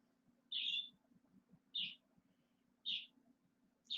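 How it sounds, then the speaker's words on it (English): Shrill bird calls sound four times in a steady rhythm, each short harsh burst rising clearly above a low background hum, near and fairly loud, with no talking. "Oh, you got screaming birds?"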